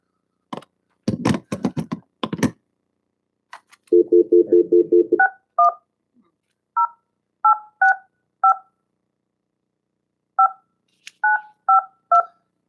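A phone is dialed during a city council meeting: a few handling clicks and a short run of rapid low tones are followed by a series of distinct dialing beeps in uneven rhythm, clear and close, with no talk.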